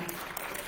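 Audience applause after a conference talk, a dense, continuous wash of many hands clapping in a hall, heard only briefly.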